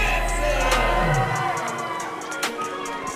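A crowd at a fight event cheers and murmurs in an arena, a broad roar of voices with scattered shouts, fairly steady and moderately loud throughout the short stretch.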